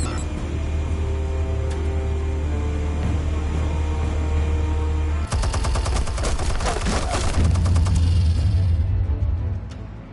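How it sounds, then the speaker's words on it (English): Explosives detonate in the Batman Telltale video game as a loud, sustained roar of blasts with a dense burst of rapid crackling bangs in the middle, then a rumbling tail that fades. "Explosives armed. Fire when ready."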